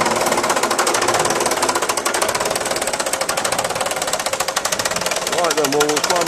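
Fordson Major tractor engine running with a rapid, rattling knock, loud and continuous throughout, with no pauses.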